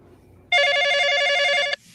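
A telephone bell rings loudly in one sustained burst of about a second, heard during a scene from the horror film Clown in a Cornfield, with a quiet low room rumble before and after.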